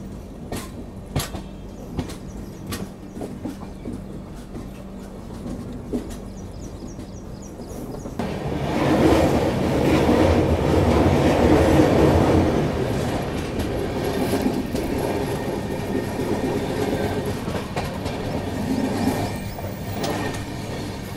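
The Telangana Express passenger train runs on rails around a curve near Kazipet beside a lake. Rhythmic wheel clicks give way to a louder, sustained rumble and rattle that swells midway and then settles, with no talk.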